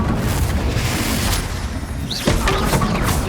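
A Confringo spell blast in Hogwarts Legacy erupts as a loud, booming rumble over sustained battle noise, with a sharper crash partway through, close and heavy.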